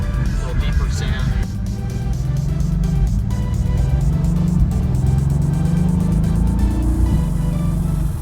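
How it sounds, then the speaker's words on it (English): Mercedes-AMG GT engine and exhaust in Sport Plus mode with the exhaust baffles open, a steady, loud deep drone with rising and falling revs heard from inside the car, with people talking over it throughout. "Baffles open up in the exhaust, give it a little deeper sound."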